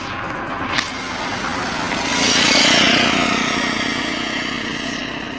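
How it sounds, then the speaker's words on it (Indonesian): Motorcycles pass along a road beside rice fields in the late afternoon, engines swelling louder as one goes by close and then fading, with a steady background drone throughout. "dari tadi aku sini tuh ngeliatin lalu lalang motor pada lewat"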